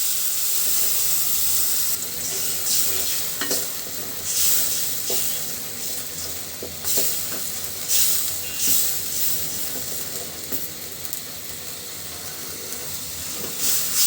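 Spice paste sizzles and hisses steadily in a pan of fried onions, a loud continuous frying hiss with occasional scraping clicks and no talking, for a vegetarian pumpkin dish with five-spice tempering.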